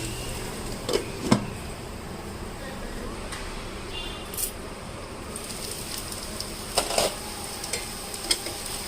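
Broccoli snacks fry in oil with a quiet, steady sizzle, broken by a few sharp clicks and scrapes of a utensil against the pan.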